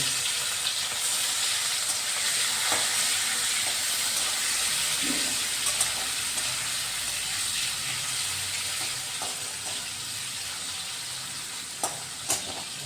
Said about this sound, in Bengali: এবার আমি চিংড়ি মাছটা একটু ভেজে নেব।